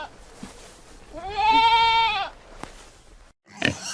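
A goat bleats once, a single long wavering cry lasting about a second, loud and close, with a brief click and a short noisy burst after it.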